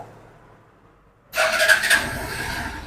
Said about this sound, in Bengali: গাড়ি একটু স্টার্ট দিই দাদা